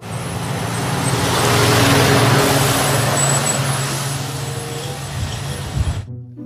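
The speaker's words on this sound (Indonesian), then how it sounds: "Mobil truk tangki panjang," A long toy tanker truck produces a continuous road-vehicle rumble, like traffic, that swells gently and holds steady for about six seconds before stopping suddenly.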